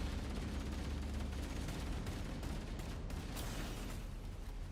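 Rapid assault rifle bursts crackle through a firefight in the Halo: Campaign Evolved shooter, played on Legendary difficulty, dense and continuous with sharp repeated shots at a steady moderate level.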